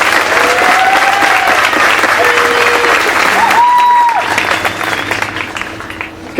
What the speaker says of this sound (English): you deserve a big round of applause and a hearty congratulations